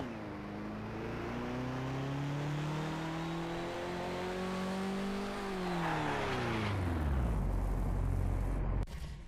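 A truck in the Garry's Mod video game drives fast around a track and drifts through corners. The engine drones loudly and rises in pitch, then revs down with some tire squeal before cutting off abruptly.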